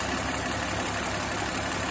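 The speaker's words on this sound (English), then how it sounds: "idling high for a bit, that lifter noise is pretty much gone" A rebuilt BMW 2.5L M54B25 inline-six idles steadily, a dense continuous mechanical hum and whir heard up close and fairly loud, with no distinct knocks standing out and no voices.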